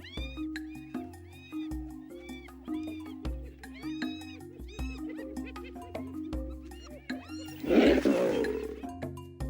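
Cartoon lion's angry roars and growls, layered over a looping music bed with a loud burst near the end.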